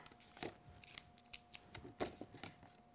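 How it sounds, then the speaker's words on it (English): Scissors snip repeatedly in short, crisp cuts along the edge of a card, about a dozen in quick uneven rhythm, close by with no talking. "because I can run my scissors right along the edge of the card that way"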